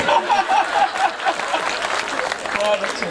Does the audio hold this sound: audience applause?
yes